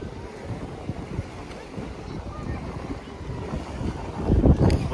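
Black Sea waves wash ashore at Sochi in September while wind buffets the microphone. The surf and gusts form a steady rushing noise that swells louder toward the end.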